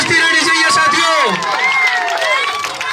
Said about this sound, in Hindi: तालियां बजती रहनी चाहिए साथियों